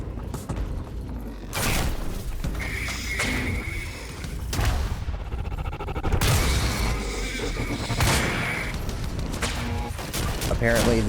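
Explosions and combat effects from the video game Quantum Break boom in dense, repeated bursts with crackling debris and mechanical whooshes, loud and continuous across the stretch, with a player's voice heard speaking over them.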